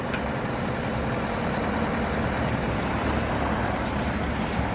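A Lovol mini tractor engine idling steadily nearby, an even, constant chugging drone with no speech.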